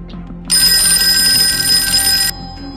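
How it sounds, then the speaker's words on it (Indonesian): A telephone bell rings suddenly in an action film scene, a loud, continuous metallic trill lasting nearly two seconds before cutting off, over a low hum of background sound. "Di sana telepon berdering secara tiba-tiba"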